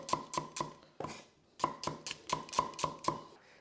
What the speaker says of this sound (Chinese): 下一样1小块的姜也是一样切片